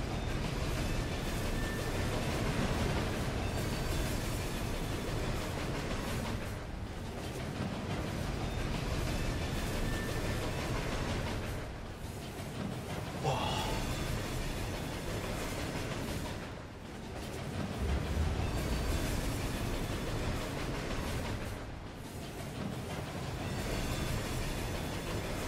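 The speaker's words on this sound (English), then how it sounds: "Especially because the train's so goddamn loud." A loud train passes in the Murdered: Soul Suspect video game, its rumbling, rattling roar continuous over many seconds with periodic dips and surges, heard alone without talk.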